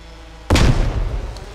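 A single loud grenade blast in a trench-warfare video game, erupting suddenly after near silence with a sharp boom and a rumbling, crackling decay that fades over about a second.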